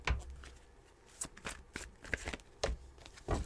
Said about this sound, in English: Usually I kind of shuffle a little bit.